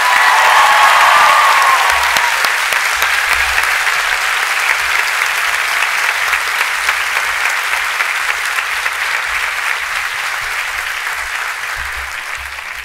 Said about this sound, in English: I'm not sure if you're clapping because it's the last time.